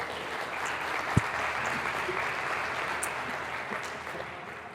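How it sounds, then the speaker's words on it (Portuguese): A church congregation at a Portuguese-language worship service claps steadily and fairly loudly. The dense, even applause fills the space without a break and eases off slightly toward the end. "Dá um glória a Deus bem forte e aplauda o Senhor Jesus."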